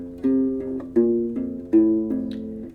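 A U-Bass plays measure 16 of a song: four deep, round plucked notes, each ringing before the next, in an even, unhurried rhythm, alone and close.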